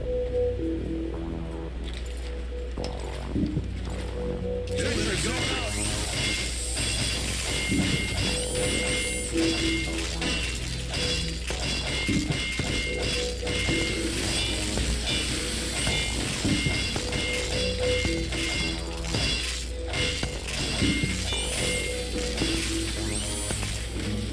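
In Team Fortress 2, the Engineer's Jag wrench strikes a building over and over to repair it, giving dense metallic whacks and clanks over steady game noise and hum, with no talk.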